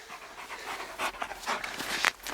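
A small dog pants close by in quick, soft, rapid breaths, the rhythm continuing steadily with no talking.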